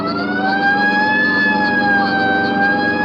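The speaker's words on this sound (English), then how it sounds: "Right, I'll hit the siren." A wailing police car siren sounds steadily and loudly throughout, rising and falling slowly over engine rumble, in a radio drama.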